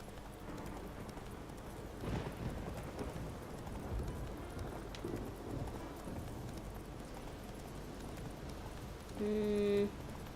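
Hooves of Roach, the horse in The Witcher 3 video game, clip-clop in a steady galloping rhythm, fairly faint, with a brief tonal sound near the end.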